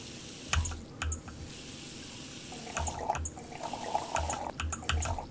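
Water runs from a kitchen tap in the Cooking Simulator video game, a steady soft stream with a few louder splashes and clunks, heard alone without talk.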